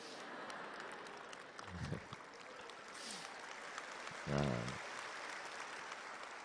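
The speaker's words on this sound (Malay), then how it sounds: "Sebab tepuk tangan yang meriah tadi" Lively applause from a live audience at an Islamic lecture in Malaysia, a steady wash of clapping filling the hall throughout, with brief bursts of voice rising over it.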